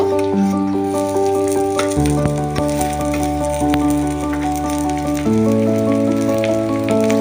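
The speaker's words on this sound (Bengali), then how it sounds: "এবার আমরা এতে পেঁয়াজ দিব" Onions go into a pan of fried potatoes, and a constant crackling sizzle runs beneath prominent background music, with a few sharp ticks from the pan.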